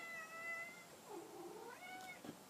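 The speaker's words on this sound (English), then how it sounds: "It's my cat." Domestic cat meowing indoors, a drawn-out wavering call followed by a shorter rising meow, faint and somewhat distant against low background hiss, with no talk.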